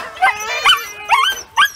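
Several sled dogs yelp and whimper eagerly before a training run, with high, excited cries coming in repeated bursts close by, loud and urgent.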